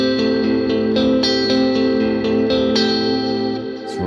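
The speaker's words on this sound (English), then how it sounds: "I'm going to put a bit of a boost in front of it" Electric guitar run through a Quad Cortex with a boost pedal in front, playing a steady run of picked notes with a thick, pushed, slightly driven tone and some shimmer and echo, loud and alone without voices.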